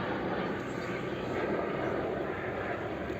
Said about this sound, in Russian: Что здесь вертолет кругами, смотри, летает.